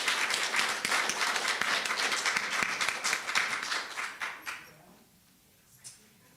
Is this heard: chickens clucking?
no